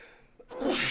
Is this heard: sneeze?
yes